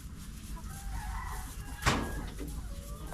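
A rooster near backyard chicken pens gives a clear crow in the middle, louder than the steady low outdoor rumble and scattered faint clucking around it.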